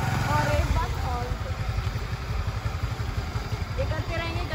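A scooty scooter engine with throttle applied during a riding lesson, a close, steady motor rumble with slight fluctuations running under a person talking throughout.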